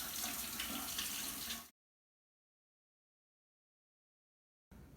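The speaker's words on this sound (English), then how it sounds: "run the burn under some cool water" Cool water runs from a kitchen tap in a steady, fairly loud rush that cuts off abruptly, leaving silence before the flow briefly resumes.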